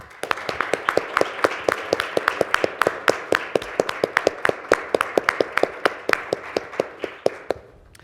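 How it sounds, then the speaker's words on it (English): Scattered, evenly spaced claps ring out in a white coat ceremony hall, sounding like a smaller group or a single steady clapper tapping through eight seconds rather than a full roaring ovation. "one more round of applause"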